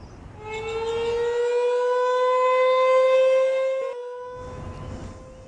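Dallas tornado sirens sound across the city late at night. A loud, sustained wailing tone rises and holds for several seconds, drops away briefly, then starts again, with no voices.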